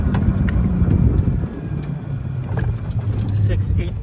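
Western 300 electric golf cart with a 48-volt system of six 8-volt batteries, fire-engine red, pulling away with a low rumbling drive and wind noise, close by, while someone talks over it.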